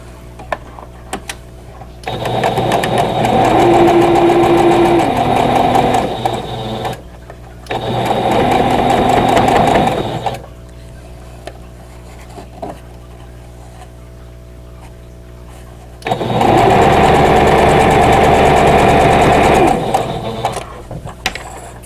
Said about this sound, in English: nest the seams, repin it, and then sew